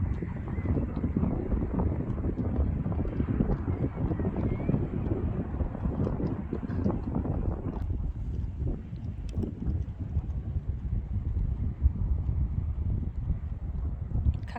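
Strong wind buffets a microphone outdoors in Switzerland, making a continuous heavy low rumble that stays loud and unbroken for the whole stretch.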